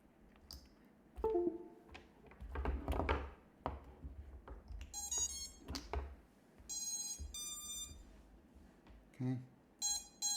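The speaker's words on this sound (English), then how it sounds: "we've checked that our beeper's working" Drone flight controller beeper sounding during a failsafe test, with several short bursts of bright high-pitched beeps in repeated clusters, mixed with handling clicks and taps and some speech.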